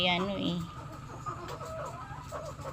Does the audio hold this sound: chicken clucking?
yes